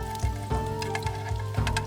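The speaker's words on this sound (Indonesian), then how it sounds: "panaskan sedikit minyak, lalu masukkan beberapa bumbu seperti bawang putih dan bawang merah dan goreng hingga mengeluarkan aroma" Garlic and shallots sizzling in a little hot oil at a forest survival camp: a close, steady crackling fry with a few sharper pops, under a constant low tonal hum and with no talking.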